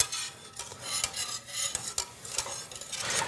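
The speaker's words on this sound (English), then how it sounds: "And we're just gonna stir this" A whisk or spoon scrapes and stirs béchamel sauce in a pot as it comes up to a simmer, giving soft repeated swishes and light metallic taps at close range, with no talking.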